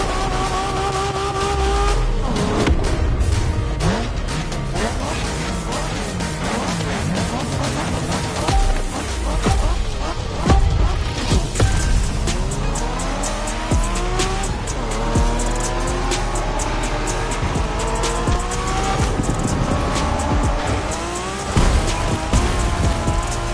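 A car in The Crew Motorfest racing game, set in Japanese street racing, roars loudly throughout with revving engine pitch sweeping up and down and repeated sharp tire squeals and skids.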